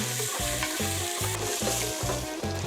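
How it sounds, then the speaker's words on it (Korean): Korean chili powder frying in oil to make chili oil for a doenjang stew with beef tendon, a constant close sizzle broken by regular scraping stir strokes of a utensil against the pan. "여기다가 고춧가루를 좀 넣어서 고추기름을 꼭 내줘야 돼"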